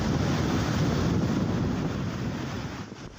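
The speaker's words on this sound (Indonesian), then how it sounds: "Angin kencang disertai gelombang tinggi melanda kawasan pesisir Pantura Subang." Strong wind and high sea waves batter the Pantura Subang coast, a loud, continuous roar of surf and gusting wind buffeting the microphone, steady throughout and easing slightly toward the end.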